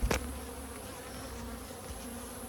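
A colony of honey bees hums around the hive in a continuous close buzz, with a brief sharp knock at the very start and no voices.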